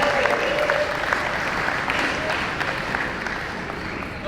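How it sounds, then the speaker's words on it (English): Audience applause for Jeremy Bond, a sponsor honored at the Downtown Urban Open 2022 awards, steady clapping from a crowd holding an even level throughout with a faint tone running underneath. "Give him another round of applause,"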